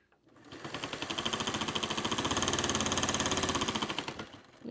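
A sewing machine stitches a quilt four patch in one continuous run, its rapid even needle rattle swelling up and then slowing to a stop, close and alone.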